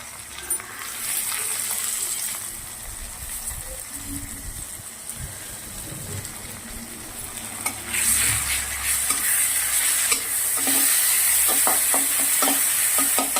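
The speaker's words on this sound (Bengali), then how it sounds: "এবার এতে দিয়ে দেবো আদা রসুন বাটা।" Ginger garlic paste hitting hot oil in a pan, a loud sizzle and spatter with spoon stirring and scraping that grows busier toward the end, with no talk.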